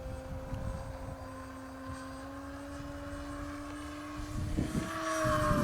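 A Durafly Me 163 Komet electric RC model of the Messerschmitt rocket fighter flies at half throttle, a steady whining motor drone heard from a distance under wind, rising slightly near the end.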